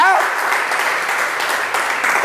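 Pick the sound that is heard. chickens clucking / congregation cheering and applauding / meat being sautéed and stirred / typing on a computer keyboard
congregation cheering and applauding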